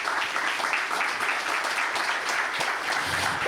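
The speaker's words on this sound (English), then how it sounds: "Can I ask for a big round of applause to our panelists?" Audience applause for the panelists at the close of a conference panel discussion on Baltic Sea region wind partnerships, a dense, steady wash of clapping from a full room for a few seconds.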